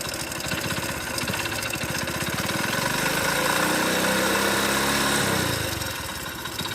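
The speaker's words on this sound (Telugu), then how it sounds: "కిర్రు అని సౌండ్ వస్తుంది చూసినా, అదే అనమాట మనకు ఇంజన్ లోపల కనెక్టింగ్ రాడ్ సౌండ్ అనేది" A motorbike engine on its way out idles with a knocking connecting rod, a rapid, regular rattling clatter that swells into a deeper rev midway and then settles back, close and loud with no voices.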